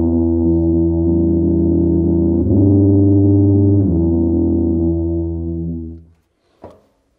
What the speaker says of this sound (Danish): jeg har på den måde spillet på det her horn lige siden i Big Bandet